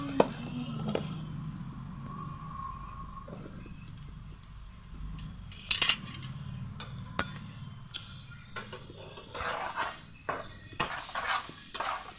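Dried fish frying with turmeric and salt in a pan, a steady soft sizzle with stirring scrapes and a few sharp clinks of a spatula against the pan, close and alone with no talk.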